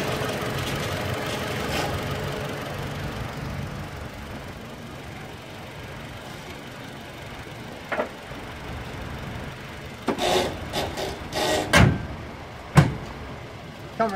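A Toyota Hilux 2.7 litre four-cylinder engine idles with a steady, low rumble that goes on throughout, and a few sharp clicks and knocks sound near the end.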